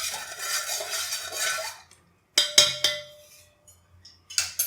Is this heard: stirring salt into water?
yes